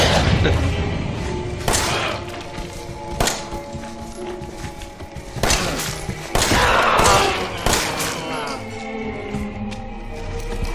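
Loud bursts of Resident Evil 7 gunfire, several sharp shots and thuds at irregular intervals over a rumbling, busy background.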